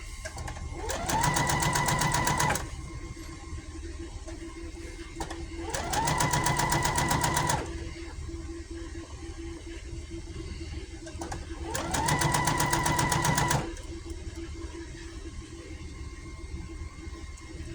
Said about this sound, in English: And I'll sew that all the way around to where they meet.